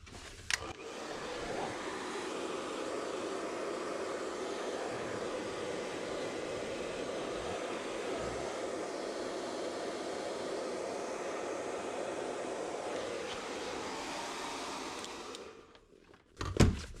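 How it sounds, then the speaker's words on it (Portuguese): A hair dryer blowing on a piece of fabric lining to soften it, a steady, loud whooshing roar running continuously for about fifteen seconds before clicking off, followed by a brief handling clatter. "Vou pegar meu secador e vou amolecer essa peça"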